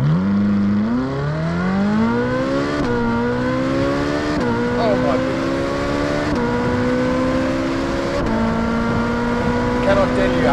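Ferrari 458 Speciale with double-clutch gearbox revving hard, pitch climbing through repeated upshifts with short drops between gears, loud and close from inside the car; a voice exclaims briefly over the engine.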